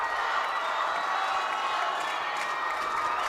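Roseau fans cheer and shout during a timeout at a girls' Section 8AA hockey final against Moorhead, a steady, loud arena crowd roar that holds without a break.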